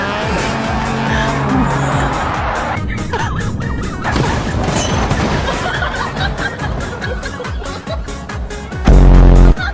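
A car in the BeamNG.drive video game squeals its tires and skids before crashing with loud impacts and crunching debris, ending with a sharp electronic tone.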